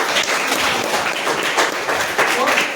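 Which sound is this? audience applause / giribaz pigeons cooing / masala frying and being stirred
audience applause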